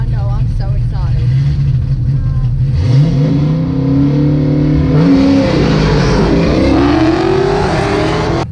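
A C5 Corvette with an RPM T-56 manual transmission accelerates hard on a dragstrip at night, its engine note climbing steadily through the gears with clear pitch breaks at each shift, loud and close throughout.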